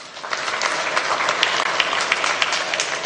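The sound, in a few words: audience round of applause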